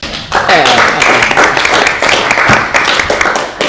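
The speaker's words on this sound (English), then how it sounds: "Give me a round of applause" Close, loud clapping at a Christchurch City Council meeting, a few people applauding with sharp irregular claps while voices talk over the top.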